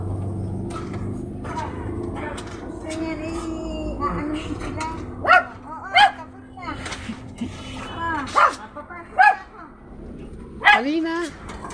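A dog at home barks in a handful of sharp, separate yaps and whimpers, fairly close, with a low background hum and some voices underneath.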